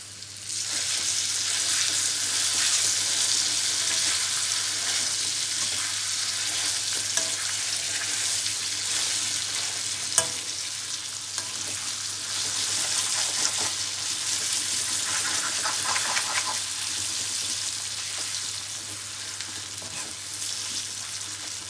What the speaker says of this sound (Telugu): తాలింపు బాగా ఫ్రై అయిన తర్వాత ముందుగా మనం నూరుకున్న పచ్చడి వేసుకోవాలి